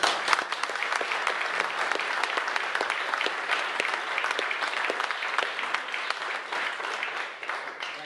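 A theatre audience applauds Captain Mike Bannister, a Concorde pilot, with sustained, dense clapping that stays loud and steady for the whole stretch before tapering slightly at the end.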